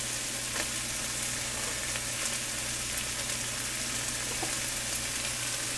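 Onion, mushrooms and garlic fry for venison fajitas, giving a constant soft hiss and crackle from the pan, fairly quiet and even throughout with no voices.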